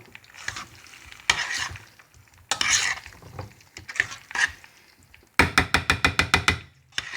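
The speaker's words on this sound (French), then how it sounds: "Alors vous remélangez le tout ونخلطو كامل. avec les lardons et tout." Salad tossed together with lardons, a run of scraping and clicking mixing strokes, then a quick series of about eight sharp rhythmic clacks near the end, with no talk.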